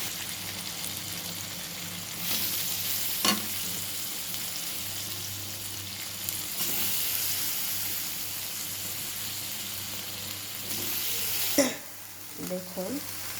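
Polao rice fries in a biryani pot with green chillies and biryani masala, a soft steady sizzle broken by scraping stirs and a few knocks of the spoon against the pot.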